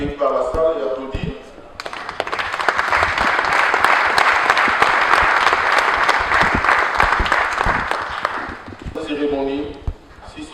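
A hall audience at a food security and nutrition awareness day applauds arriving officials, a loud sustained wash of clapping lasting about seven seconds, framed by a speaker's amplified voice before and after.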